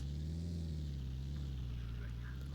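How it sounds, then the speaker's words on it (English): A car engine in a video game drones steadily with a low, continuous hum that stays loud throughout, without sharp peaks. "hear the engine revving?"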